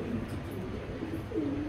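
Racer pigeons coo softly in a loft, a low rolling call rising near the end over steady background noise.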